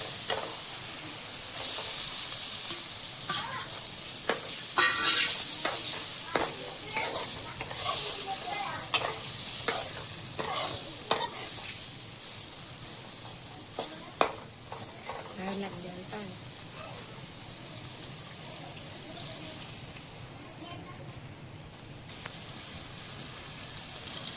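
Lemta fish hits masala frying in a pan, setting off a loud steady sizzle, with repeated scraping and clinking stir strokes over the first part before the frying settles to a softer hiss.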